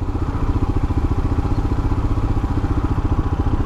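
A Royal Enfield Himalayan motorcycle runs steadily while being ridden, its single-cylinder engine thumping in a fast, even pulse that stays loud and close throughout, with no talking over it.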